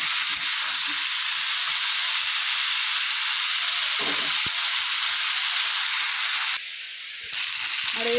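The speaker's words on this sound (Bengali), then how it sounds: "একটু নেড়ে চেড়ে কষিয়ে তারপর দিয়ে দেবো পালং শাক।" Spinach tossed into a hot pan with turmeric sizzles loudly and steadily up close, a constant frying hiss with brief stirring scrapes and a short change in tone near the end.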